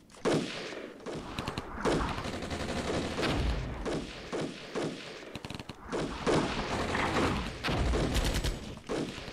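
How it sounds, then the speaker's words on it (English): An artillery bombardment in the Armored Brigade war game, with repeated heavy blasts and rattling volleys of gunfire crashing in bursts throughout, loud and dense. "Also bombarding pretty close to our own troops."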